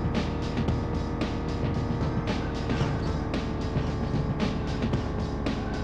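Volkswagen Beetle engine in the Beetle Adventure Racing video game, Coventry Cove track: a steady, loud, droning engine note holds throughout with rhythmic pulsing and small surges, no talk.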